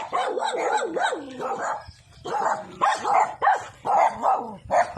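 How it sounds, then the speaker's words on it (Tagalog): Several dogs bark aggressively in rapid, overlapping bursts with yips and growly tones, fairly close by, continuing in repeated volleys with brief pauses throughout. "Angry dogs."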